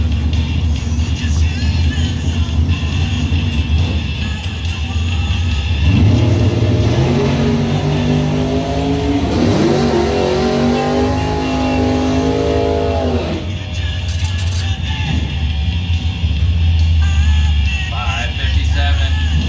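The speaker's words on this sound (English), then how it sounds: "Mopar taking out the 70 Nova, Ron Emery for 308 bar and grill." Drag race cars at a 2020 Blue Oval Battle time trial, including a 1970 Nova, rev and accelerate hard down the strip, their engine roar climbing in pitch before fading, with steady crowd and track noise throughout.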